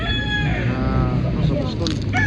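A young stag gamecock of the kanawayan strain crows once, close and clear, its drawn-out call fading into farmyard clucks while someone talks over it.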